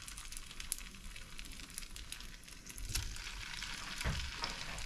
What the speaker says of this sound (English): we'll just place them in our oil gently. You hear that sizzle?